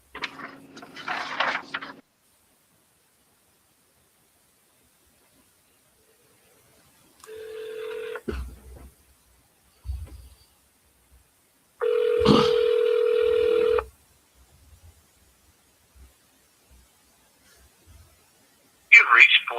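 Telephone keypad dialing tones from a phone, short bursts of steady tone separated by silences and followed by brief clicks and a voice, heard near and clear.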